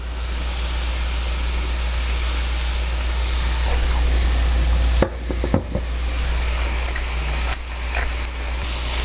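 Spinach cooks in a pan seasoned with salt and pepper, a steady sizzle under a constant low hum, broken by a few clanks of stirring.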